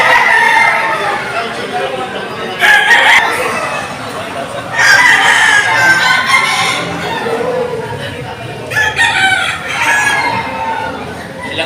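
Roosters crow and chickens cluck at a busy outdoor chicken market sheltered under a roof from the rain, with several loud crows in bursts and people talking nearby.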